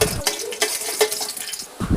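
Dried red chillies fry in hot mustard oil in a kadai, giving a soft, steady sizzle broken by a few sharp clinks and scrapes of stirring. The sound is close and there is no talk.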